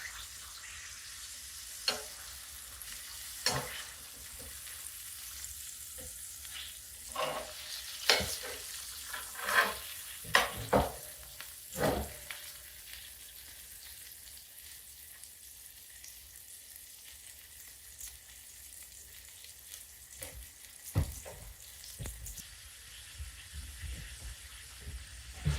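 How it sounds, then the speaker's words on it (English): Brook trout frying in a pan on a wood stove in a cabin, a soft, continuous close sizzle with scattered louder pops and crackles throughout and no voices. "It really does not take a long time to cook up these trout."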